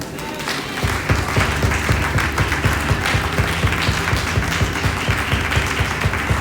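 A church congregation applauds during a sermon: steady, dense clapping from a crowd fills the room throughout, with a rhythmic low thumping beat underneath.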